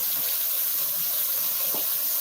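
A kitchen tap runs steadily during handwashing after handling raw chicken: a loud, continuous rush of water with slight splashes from hands moving under the stream.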